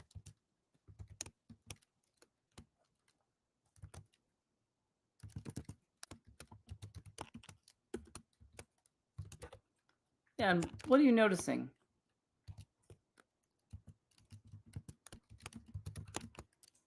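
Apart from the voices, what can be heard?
typing on a computer keyboard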